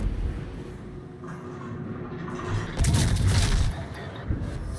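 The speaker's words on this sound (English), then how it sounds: "We've got the Duke of York over on the other side that's shooting at me." Naval guns rumble and boom in a World of Warships open-water battle as the battleship Duke of York fires, with a heavier burst of distant artillery midway over a constant low background roar.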